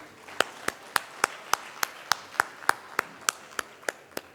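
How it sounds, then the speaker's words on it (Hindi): Sharp, evenly spaced claps at a Diwali gathering, about fifteen crisp hand claps in a steady rhythm, close and distinct rather than a full crowd's ovation. "मैं चाहता हूं एक बार हम सब लोग ताली बजाकर उनका अभिनंदन करें"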